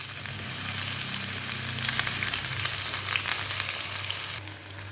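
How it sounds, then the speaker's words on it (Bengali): Chopped onion fries in hot oil in a frying pan on a gas stove, a continuous bright sizzle with light stirring bursts that eases slightly near the end, and no one speaks. "তেলটা গরম হয়ে গেছে, আমি পেঁয়াজ কুচিটা দিয়ে দিব।"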